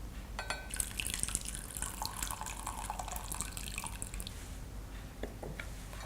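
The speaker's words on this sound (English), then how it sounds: "we're going to let go of that water in there by pouring it out on that little spout here" Water pours out of the spout of a soft-brew coffee brewer in a thin, trickling stream with light splashes and drips, quiet and close with no talking.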